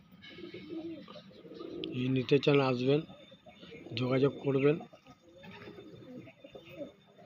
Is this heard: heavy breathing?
no